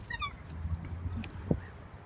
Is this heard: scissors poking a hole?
no